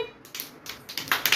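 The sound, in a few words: children clapping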